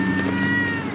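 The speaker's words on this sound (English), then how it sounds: "He went meow." A cat meows once, a drawn-out tonal call heard close and clear over a steady low background hum, during storm chasing inside a vehicle.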